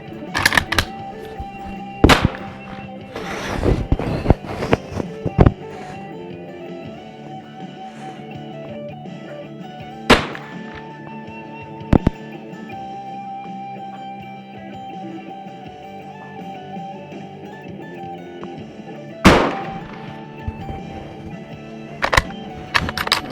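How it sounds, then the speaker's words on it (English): Carcano 7.35x51 rifle fired in a series of separate sharp, loud gunshots at uneven intervals, several close together early then a few spaced shots, over a steady hum of background noise. "I want to continue shooting there because I want to see how it groups."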